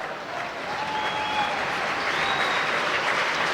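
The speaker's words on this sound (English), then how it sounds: "James Neal getting a round of applause as he leaves the ice" Ice hockey arena crowd applauding during a Nottingham Panthers versus Manchester Phoenix game, a steady wash of clapping with faint whistles rising over it.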